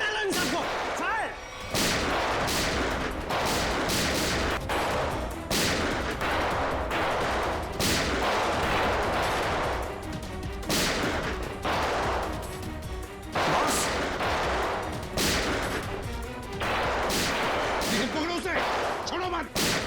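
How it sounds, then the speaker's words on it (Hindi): Police shootout in the Hindi TV crime drama CID, with rapid gunfire crackling in repeated loud bursts and heavy bangs over dramatic scoring. Shouting voices are mixed in throughout. "फायर!"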